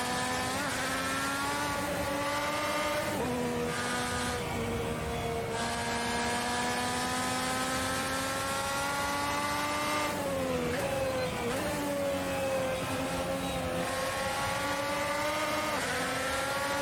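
An IndyCar engine at Watkins Glen in the Assetto Corsa racing game sustains a loud, continuous high-pitched whine that rises and falls with gear changes and braking, with brief dips in pitch before climbing again.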